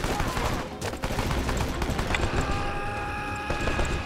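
Sustained gunfire from the Rambo video game, a dense, loud fusillade of shots and bursts running continuously over a busy game soundscape, with no clear pauses.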